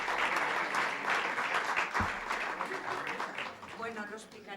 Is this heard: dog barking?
no